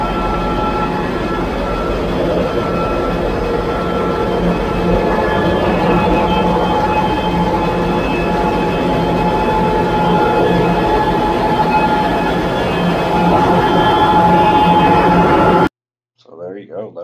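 A 3,000 horsepower boat engine roars loudly and continuously in an enclosed engine room, a dense broadband rumble with a steady low drone, cutting off abruptly near the end before faint talk.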